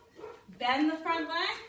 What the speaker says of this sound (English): I bet you can hear my dog barking in the background.